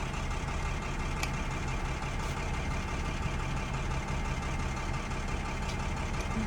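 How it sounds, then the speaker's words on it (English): A car engine idles nearby with a steady, unbroken low rumble and hiss that fills the whole stretch at moderate level, with no voices over it. "Please turn off the engine, bro."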